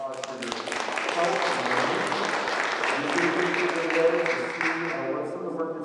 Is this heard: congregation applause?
yes